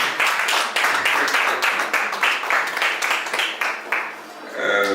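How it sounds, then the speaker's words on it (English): An audience claps to welcome a speaker, the applause dense and close, then thinning near the end as a voice begins. "Please, a round of applause for Mrs. Jirikmo."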